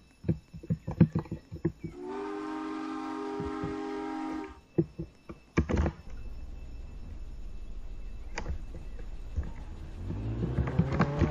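A train in the Roblox game Jailbreak sounds a long, steady horn blast of about two and a half seconds, framed by scattered clanks and knocks, with a rising mechanical tone building near the end.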